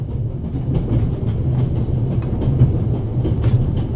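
A moving train in the video game The Raven gives a steady, continuous rumble with a low clattering roll, holding an even loudness throughout with no voices.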